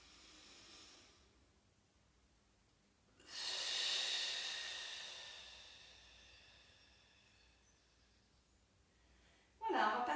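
A slow, audible inhale during a beginner Pilates mat exercise, a soft breathy rush swelling for a few seconds and fading, set in a quiet room with a brief sharper sound at the end.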